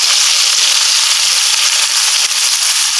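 Thinly sliced onions frying on high heat in hot white oil for mutton biryani, giving a loud, steady, dense sizzle with no pauses and no voices throughout.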